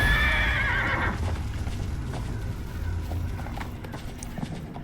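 A horse in the fantasy video game Neverwinter gallops over snow, steady clip-clop hoofbeats with a whinny near the start, close and continuous.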